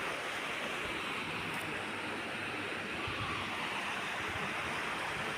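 A river flows beside a spot where people are working on a raft, giving a steady, unbroken rush of water that stays loud and close throughout, with no voices.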